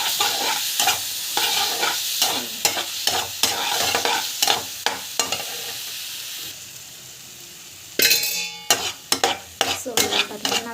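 Plantain sautéed with asafoetida and salt in a pan, with repeated sharp spatula scrapes and knocks over a frying hiss that fades midway, then returns with loud sizzling and more quick stirring strokes.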